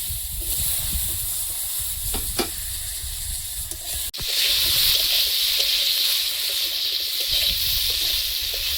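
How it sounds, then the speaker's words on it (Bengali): Potatoes frying in oil in a home kitchen pan, a steady loud sizzle running throughout with a couple of stirring scrapes and a brief dip before the hiss swells again. "আগে আলুটা ভেজে নেব।"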